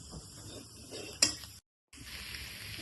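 A spoon stirs a drumstick curry mixture in a pan with a soft sizzle and scraping, plus one sharp metallic clink partway through and a short silent gap.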